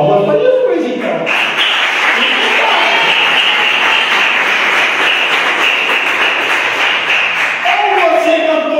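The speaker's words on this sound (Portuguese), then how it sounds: "Palmas para Jesus, então." A church congregation at Comunidade Cristã Renascer clapping for Jesus: dense, steady, loud applause from a large crowd sustained for several seconds, with voices mixed into the roar.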